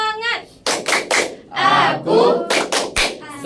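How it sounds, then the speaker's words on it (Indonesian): A class of children performs a rhythmic clapping chant during a school lesson, with several sharp bursts of group claps alternating with spoken or chanted voices close by. "Tepuk semangat."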